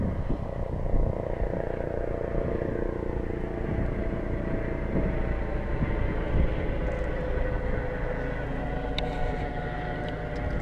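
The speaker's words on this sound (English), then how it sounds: "Chopper." A continuous low, droning helicopter engine roar fills the air over the Clwydian mountain range, steady and fairly loud throughout as it passes overhead.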